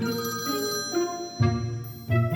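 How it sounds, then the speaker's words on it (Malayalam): A telephone rings with a repeating electronic tone, a couple of bursts close by and fairly loud, with no talking. "അപ്പോഴാണ് ഒരു ഫോൺ കോൾ വരുന്നത്."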